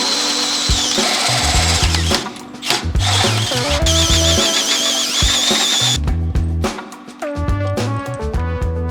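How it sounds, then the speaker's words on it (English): A power drill whines in bursts, revving up and down with pauses between runs as the bit drills out steel leaf spring hangers to 9/16 inch on a Toyota 4Runner, close and loud. "we need to drill out the leaf spring hangers to 9/16"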